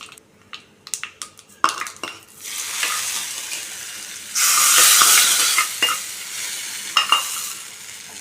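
Urad dal, cumin, dried chillies and curry leaves hit hot oil for tempering, giving a burst of loud crackling sizzle amid spoon clinks and scraping in the pan.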